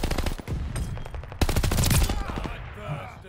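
A Tommy gun fires in rapid automatic bursts in a shooter video game, with dense repeated shots and short pauses between volleys, loud and close.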